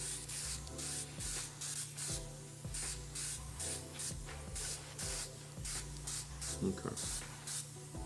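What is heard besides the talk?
Mobius airbrush spraying 65 Hellblau paint coat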